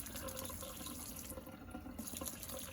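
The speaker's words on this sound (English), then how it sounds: "And you just have to add water until you think it's the right consistency." Water runs steadily from a tap into cornmeal for Southern fried cornbread, a continuous faint pouring stream with no break.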